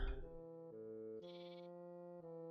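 Sheep in Minecraft, Modern Skyblock 3 modpack, give a single drawn-out bleat lasting a couple of seconds, clear and alone with a wavering pitch.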